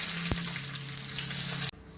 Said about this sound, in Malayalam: അര ടീസ്പൂൺ കടുക് പൊട്ടിയതിന് ശേഷം ഉഴുന്നുപരിപ്പ് 1 സ്പൂൺ ചേർക്കുക.